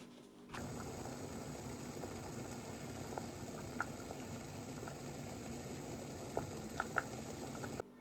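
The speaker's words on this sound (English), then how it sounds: "you've just seen the pouch bubbling away in the pan" A British military ration all-day breakfast pouch simmering in a pan of boiling water, giving a faint, steady bubbling hiss dotted with small pops and ticks.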